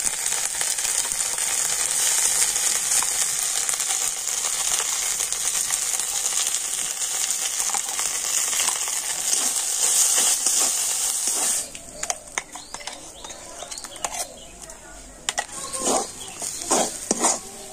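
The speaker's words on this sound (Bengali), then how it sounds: "আর এখন আমি এর মধ্যে পেস্ট করে রাখা মটরশুঁটিটা দিয়ে দেবো।" Pea paste frying in a pan with ginger and green chili for a kochuri filling: a steady, close sizzling hiss, then stirring scrapes and clicks as the sizzle eases.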